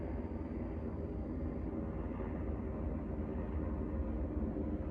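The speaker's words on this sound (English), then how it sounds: "Very loud airplane going by." A loud airplane flies overhead near a waterfall, its steady low rumble broadband and constant throughout, with no talking.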